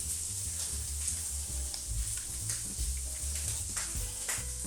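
Steady sizzling of bacon frying in a hot pan, a continuous crackling hiss with small pops, fairly close and moderately loud.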